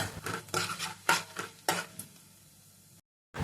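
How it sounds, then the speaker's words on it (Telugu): Peanuts and chana dal being stirred in hot oil in a kadai, with a rhythmic run of close spoon scrapes and rattles over a light sizzle. Near the end the stirring stops briefly before a short burst returns. "పల్లీలు వేసుకుందాం, శనగపప్పు వేసుకుందాం. కలుపుకోండి."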